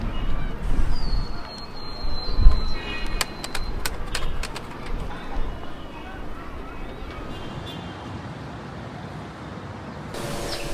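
Pigeons coo in a busy Cairo street where young men keep them, heard as soft, intermittent calls under constant street and traffic noise.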